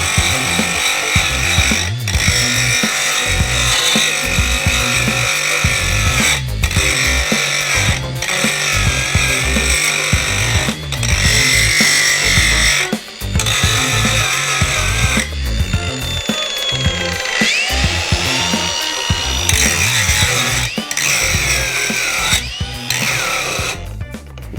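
An 18-volt Makita angle grinder runs close by with a loud, continuous high whine that lasts over twenty seconds, with brief dips in pitch where the load changes.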